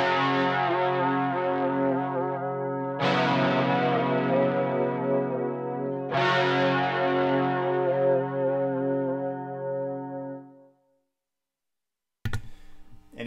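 Electric guitar through a Line 6 Helix with chorus effect, recorded direct in stereo: three loud sustained chords struck about three seconds apart, each ringing out with a shimmering wide chorus and slowly fading, followed by silence and a brief noise.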